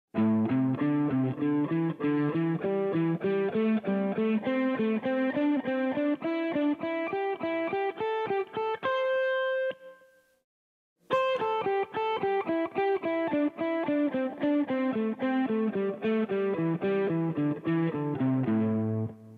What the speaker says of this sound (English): So if you were to pick each note, playing 3s ascending first,